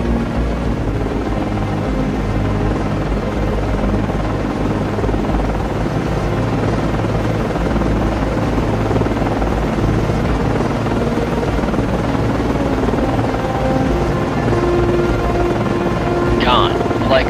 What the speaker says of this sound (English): Con, Flyco, aircraft landing.